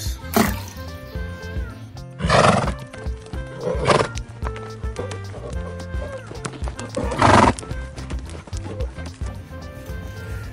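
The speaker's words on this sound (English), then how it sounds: "horse" A horse whinnies loudly several times, with hooves clip-clopping between the neighs, close and clear over a faint background.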